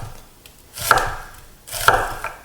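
Onions being roughly cut with a knife for a beef and broccoli stir fry, two firm chopping strokes on a board about a second apart, close and fairly loud with no talk.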